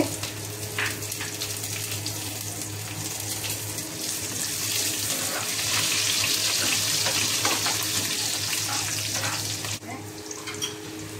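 Garlic and green chillies frying in oil in a pan on a home stove, a steady close hiss and crackle that swells midway and runs on without pause.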